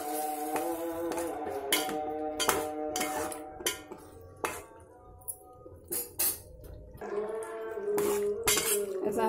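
Egg masala curry being stirred in a pan after tamarind juice is added, with repeated sharp utensil clinks and scrapes against the metal over a steady background hum, close and moderately loud.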